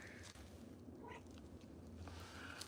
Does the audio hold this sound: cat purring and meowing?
yes